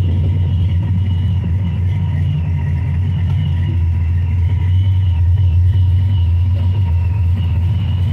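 A supercharged, nitrous-equipped 1998 Chevrolet Camaro Z28 F-body with a mild factory ZR1 cam idles and revs nearby, giving a loud, continuous deep engine rumble that swells slightly mid-way.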